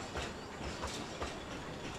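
Narrow-gauge Talyllyn Railway train rolls through woods with rhythmic clickety-clack of wheels over rail joints, a steady rumbling run heard at moderate distance.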